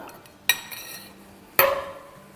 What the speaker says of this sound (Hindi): अच्छे से मिलाएंगे